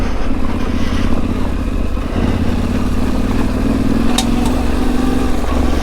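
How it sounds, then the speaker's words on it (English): Small stones and debris tick and clatter against the bash plate of a Yamaha Tenere Rally motorcycle on a green-lane trail, under a steady loud engine drone and wind rush. "Things pinging off my bash plate."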